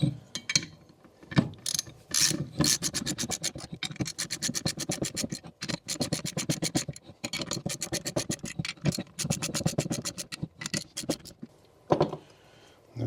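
Ratcheting clamp tightening down on a Jaguar XK8 shock absorber spring, a fast run of sharp mechanical clicks in bursts with brief pauses, close and fairly loud, no talking.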